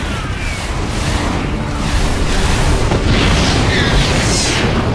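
Medivac being shot down and exploding in StarCraft II, a dense, loud burst of booming explosions and crackling battle noise that carries on throughout.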